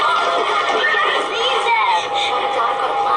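Horses whinny and neigh amid a dense, continuous wash of noise during a news broadcast, with a voice speaking over it throughout.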